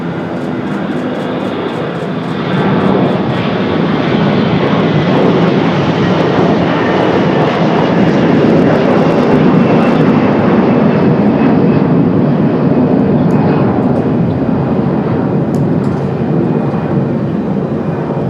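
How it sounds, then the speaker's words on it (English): Frontier airliner taking off at Raleigh-Durham International Airport, a loud, sustained jet engine roar that swells and holds steady for many seconds, broad and rumbling with a hissing upper edge, no talk. "Frontier going to take off like a rocket."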